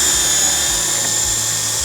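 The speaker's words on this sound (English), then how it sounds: "So let's drill small pilot holes first." A close, loud high-pitched drill whine runs steadily and continuously as it bores a small pilot hole in a gate, with a low rumble underneath and no talking.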